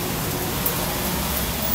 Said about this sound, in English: I got caught in the damn rain. I don't know if you can see, but I'm in the rain.